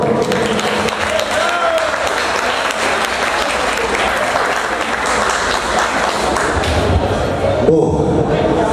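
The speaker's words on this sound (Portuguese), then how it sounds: "eu peço aqui uma salva de palmas ao campeão brasileiro" An audience at a parabodybuilding event applauds the Brazilian champion, loud sustained clapping filling the whole stretch with crowd noise and a few thumps near the end.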